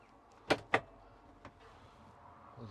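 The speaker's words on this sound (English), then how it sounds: "Just going to open this door as well." A Citroen Ami car door being opened, two sharp close mechanical clunks of the latch and handle in quick succession, then a fainter knock and quiet rustling.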